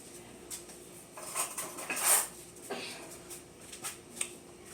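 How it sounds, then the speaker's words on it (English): A fork mixes butter and egg in a bowl, giving light, irregular clinks and scrapes of metal against the bowl. The clicks are scattered and moderately close, with a brief louder scrape in the middle. "Use a fork, not a spoon this time, to make sure the butter and the egg are well incorporated, well mixed together."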